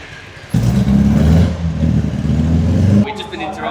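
A Marcos sports car at a historic motorsport paddock starts up and revs loudly nearby, a rough engine roar surging for a few seconds then cutting back, with voices faintly in the background.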